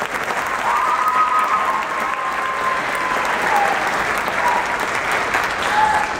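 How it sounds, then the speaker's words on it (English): A school concert audience claps loudly and steadily throughout, a dense continuous wash of applause from a large crowd between song performances. "How about another round of applause, please?"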